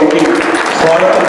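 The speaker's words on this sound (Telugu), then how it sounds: "ఒకసారి చప్పట్లతో వారికి" An audience gives welcoming applause at a teachers' union founding-day blood donation event. The clapping is sustained and broad, with voices audible under it.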